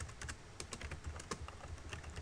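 Rapid, steady typing on a computer keyboard, close and fairly quiet, with irregular clusters of light key taps and no voices.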